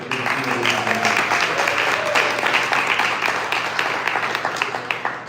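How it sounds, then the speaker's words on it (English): An audience at a live 1 Million Cups Detroit Metro startup-pitch event gives a round of applause, many hands clapping in a full, sustained burst with a few voices mixed in, tapering slightly toward the end. "And another round of applause for Incubizo"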